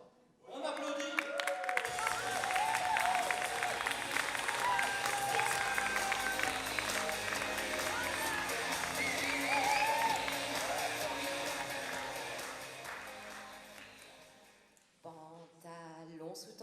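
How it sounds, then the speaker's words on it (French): An audience at a slam poetry contest applauds and cheers loudly and steadily for a long stretch, the clapping fading near the end before a voice briefly speaks. "On applaudit."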